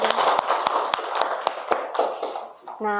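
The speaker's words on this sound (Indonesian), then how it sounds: "Tepuk tangan dulu untuk kelompok 3." Pupils in a classroom clap for group 3 in a brisk, fairly even rhythm of about a dozen sharp, close claps. The claps fade out near the end.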